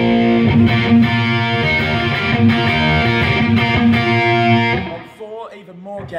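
An electric guitar played through a Marshall JCM 800 amplifier with rising gain rings out in loud, sustained distorted chords, then fades into a voice talking over the last notes.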